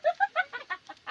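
Chickens cluck in a quick series of short, close calls, about seven bursts in a row at an even, choppy rhythm with no voices.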